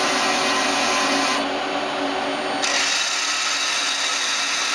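A Citizen M20 CNC Swiss lathe runs its main spindle at 1,000 RPM, producing a steady broadband machine whir with faint tonal hums that stays constant throughout, close and fairly loud.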